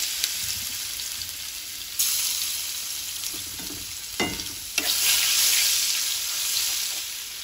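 Two dry red chillies, panch phoron, crushed ginger and crushed garlic hit hot oil in a pan, giving a loud, close sizzle that swells with each addition, broken by brief scraping stirs, with no voices.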